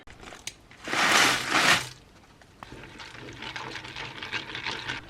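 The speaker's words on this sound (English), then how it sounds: "And bring to the boil" Cheese sauce of milk and butter heating in a pan as it comes to the boil, a loud bubbling, hissing burst for about a second, then a quieter, steady bubbling simmer.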